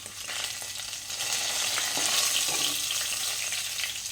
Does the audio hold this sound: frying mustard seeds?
yes